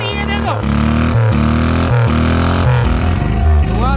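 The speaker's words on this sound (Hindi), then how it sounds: "बाइक की तरह आवाज आ रही है" Engine of a homemade car built by joining two cars into a two-engine, twin-steering 4x4, running with a loud rhythmic motorcycle-like throb that pulses in repeated bursts, close up.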